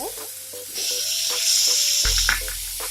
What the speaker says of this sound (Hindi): इसे हम 5 मिनट तक पका लेंगे। अच्छे से इसे भी फ्राई करना है।